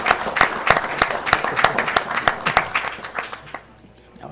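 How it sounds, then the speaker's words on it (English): An audience at a charity speedrunning marathon event applauds with dense, close clapping that holds steady for a few seconds, then thins out and fades away. "I got an applause from the audience for that"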